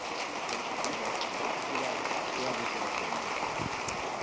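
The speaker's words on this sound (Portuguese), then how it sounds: "Dê um aplauso bem forte ao Senhor." A church congregation claps steadily during a worship service, producing a dense, even wash of applause that holds at the same level for the whole stretch, with no pause or break.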